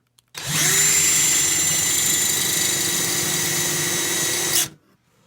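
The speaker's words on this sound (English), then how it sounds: "I got this bit on the end of my drill" A power drill whines steadily at high speed for about four seconds, loud and close, cutting into metal before abruptly stopping.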